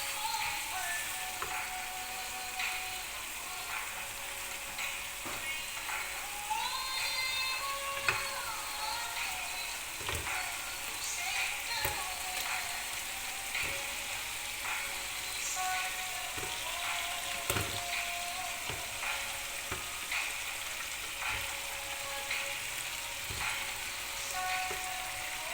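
Brinjal sizzles with kalonji in a pan, a faint, steady fry with occasional stirring scrapes and clicks.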